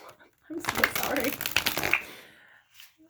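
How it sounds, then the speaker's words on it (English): A new, stiff deck of playing cards is shuffled close by, a dense papery riffle burst lasting about a second and a half, then a fainter flutter afterward. "This deck is new. This is very hard to shuffle."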